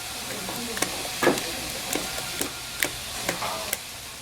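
Rice wine mash being stirred and kneaded with steamed glutinous rice to work air into it, a soft wet churning punctuated by several sharp ticking knocks, close and alone with no voices.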